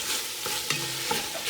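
Meat browns in a hot frying pan on a kitchen stove, giving a steady close sizzle broken by a couple of soft scraping stirs.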